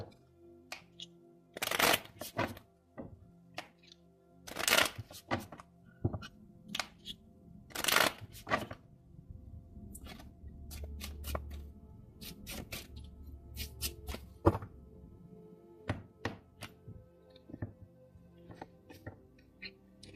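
Just Ask Oracle cards being shuffled by hand in repeated riffling bursts with short pauses between, close and clear with no talking.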